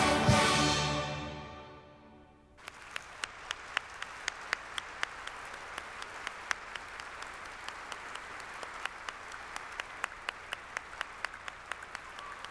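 A ringing musical chord fades out, then an opening-ceremony audience breaks into steady applause after the performance, with crisp individual claps standing out above the crowd's dense clapping to the end.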